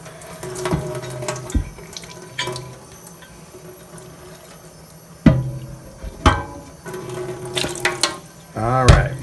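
Tap water splashes over a cast iron skillet as soap is rinsed off in a sink, a steady close stream broken by sharper splashes and clanks as the pan is moved.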